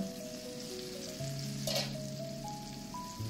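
Mughlai chicken cooks on a low flame with a quiet, steady simmering sizzle. A brief louder bubbling burst occurs midway, and a faint tonal hum sits underneath.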